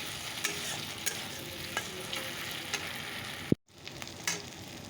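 Potatoes frying in a pan for an Indian potato-and-tomato fish curry as spices go in, with a steady sizzle, a few scraping stirs, and a sharp clunk followed by a brief dropout, no talking.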